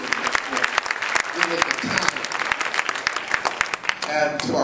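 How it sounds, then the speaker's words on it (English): Loud, dense applause from a church crowd for the graduates of a ministry school, sustained throughout with sharp individual claps and a few voices mixed in near the end. "And all 32 of you, just receive all of our applause for going through."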